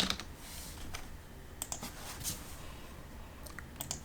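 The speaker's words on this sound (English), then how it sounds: "Just type in Cricut Design Space." Light, scattered keystrokes on a computer keyboard as a search is typed, soft irregular clicks in quick bursts over a faint background hiss, with no voices.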